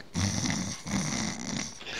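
A person imitates gentle snoring during a tabletop Dungeons & Dragons session, making two slow, breathy snore cycles with a low rumble, close to the microphone.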